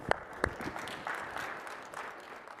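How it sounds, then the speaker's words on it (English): A conference audience at a morning tech talk claps briefly, a short burst of scattered, moderately faint applause that fades within a few seconds. "I want you all to first give yourselves a round of applause"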